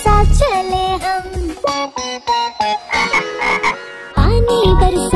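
In a Hindi children's rain song about a frog climbing out of the mud, loud croaking frog calls, sounding like a voice imitating a frog, repeat in a bouncy rhythm over the musical backing.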